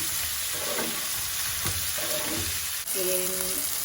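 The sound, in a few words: food frying in a pan until golden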